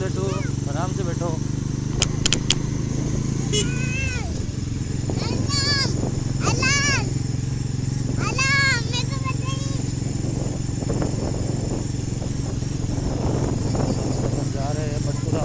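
Bajaj Pulsar NS400z motorcycle engine running steadily on a warm-up ride, a loud constant low drone with rising and falling pitch sweeps as it revs, while people talk over it.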